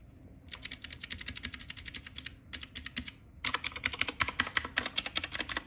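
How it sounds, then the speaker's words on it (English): Typing on an Anne Pro 2 mechanical keyboard with the keycaps removed: quick, crisp clacks in fast bursts with a short pause, close and fairly loud, with no voices. "here's the sound without the keycap on it"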